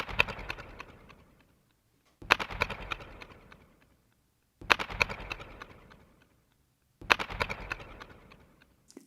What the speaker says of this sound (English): I remember that this sound was me like turning a stick into a tree trunk that was burned